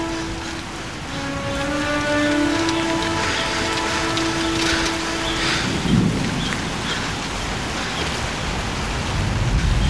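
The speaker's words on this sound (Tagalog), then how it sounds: "inabot kami ng ulan" Steady, heavy rain hisses loudly throughout, with a low musical tone and a brief rumble partway through.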